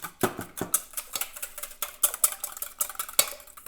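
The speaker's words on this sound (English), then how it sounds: "start whisking" Six cracked eggs whisked in a bowl, a quick run of light clinking, tapping strokes at an uneven rapid rhythm, close up and alone without talk.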